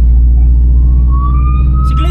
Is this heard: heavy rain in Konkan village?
no